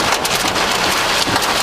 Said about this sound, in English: Look at the rain running over there.